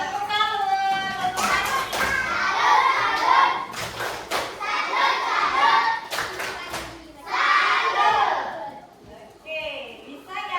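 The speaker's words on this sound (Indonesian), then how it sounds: "Tepuk tangan." Children in a classroom clap together in several short bursts between stretches of a teacher speaking, loud and close, with thumps and young voices mixed in.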